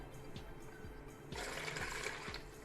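Milk pours into a mixing bowl for pizza dough, a steady liquid splash lasting about a second and a half, close and moderately loud, following quieter kitchen background with faint low thumps.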